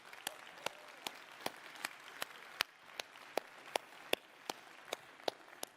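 Applause at the Xiaomi 13 Pro launch event, heard as faint, distant claps spaced at a regular rhythm over a soft hiss of room noise.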